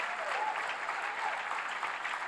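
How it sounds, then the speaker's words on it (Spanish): A church congregation applauds during a Spanish-language sermon, a soft, distant wash of many hands clapping in a steady, even roar, with a faint voice briefly rising above it. "Denle un fuerte aplauso a Dios."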